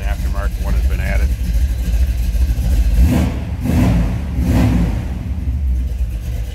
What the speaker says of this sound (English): Little rumble coming out of that V8.